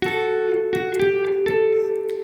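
Electric guitar playing the closing phrase of a simplified version of an iconic riff: a sustained ringing note with bright overtones, plucked again several times in an even rhythm, close and clear with no voices.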